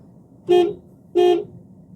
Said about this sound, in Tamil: ஒரு தடவை ஹார்ன் அடிச்சிருங்க